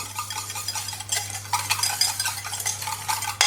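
An egg being whisked for an apple crumble tart, a quick scraping, clicking whisk rhythm against the bowl, close and moderately loud.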